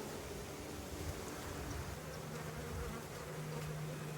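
Honey bees hum in a dense, steady drone throughout a spring hive inspection, a continuous close buzz with no voices.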